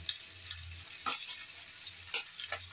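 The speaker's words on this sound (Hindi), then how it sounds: "इसको हम अच्छे से भून लेंगे।" Onion and garlic frying in a home kitchen pan, a steady faint sizzle with soft crackles and a few stirring scrapes, heard alone.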